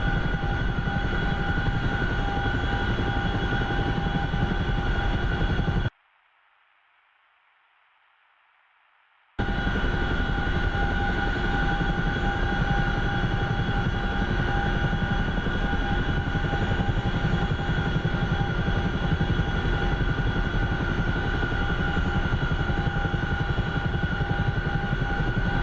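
Helicopter engine and rotor in the DCS flight simulator game, a loud, continuous whine and drone that cuts out briefly and then resumes unchanged, with no talking.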